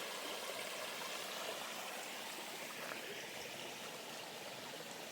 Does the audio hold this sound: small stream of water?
yes